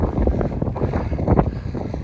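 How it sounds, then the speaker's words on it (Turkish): Strong, gusty wind on the summit of Hamza Dağı, Turkey, buffets the microphone in a continuous low roar, loud and close, with no voices. "Bayağı bir rüzgar var."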